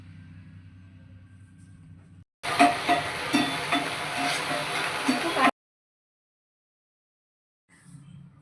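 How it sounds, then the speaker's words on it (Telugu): Chilli baby corn tossed with tomato ketchup in a hot pan, a steady sizzle with scraping stirs for about three seconds, with quiet talk before and after. "2 టేబుల్ స్పూన్స్ టమాటో కెచప్ వేసి ఒకసారి బాగా కలుపుకోండి"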